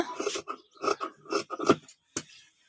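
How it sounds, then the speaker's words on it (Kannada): Scissors cut through fabric to make four pieces, heard as a series of short, close rasping snips with a few brief gaps between them. "ಈಗ ಈ ರೀತಿ ನಾಲ್ಕು ಪೀಸನ್ನು ಕಟ್ ಮಾಡ್ಕೊಳ್ಳೋಣ"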